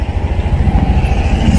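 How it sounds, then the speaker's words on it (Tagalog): Motorcycle engine running steadily while riding on the road to a market, a low rumbling drone with continuous pulsing throb and road noise, fairly close and loud, no talking. "Sakay muna tayo ng motor."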